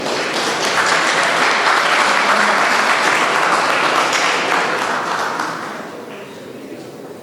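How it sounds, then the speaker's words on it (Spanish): Warm audience applause welcoming a security professional to a conference talk, a loud continuous wash of clapping that tapers off in the final seconds. "lo recibimos con un caluroso aplauso."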